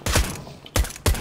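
Three sharp gunshots from Counter-Strike: Global Offensive ring out, spaced unevenly with brief decaying tails between them, loud and close with no talking.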